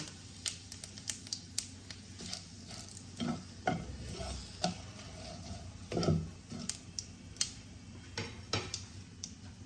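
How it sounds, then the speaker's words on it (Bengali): Whole dried red chilli and a bay leaf sizzle in hot oil already holding cumin seeds, a steady crackling fry punctuated by sharp pops and spoon stirring scrapes, close and fairly quiet, with no talking. "একটা গোটা শুকনো লঙ্কা দিয়ে দিলাম, একটা তেজপাতা দিলাম।"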